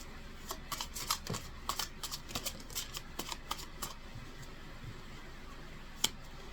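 Tarot cards are shuffled by hand in quick riffling bursts of crisp papery flicks, close and quiet, then a few isolated taps and a single sharp snap as a card is drawn.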